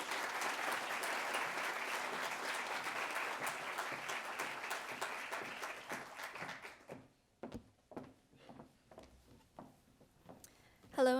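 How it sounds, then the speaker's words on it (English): Audience applause at an awards ceremony, a dense steady patter of many hands for about six seconds before thinning into scattered claps and a few sharp knocks, with a brief voice at the very end. "Let's give them a big round of applause."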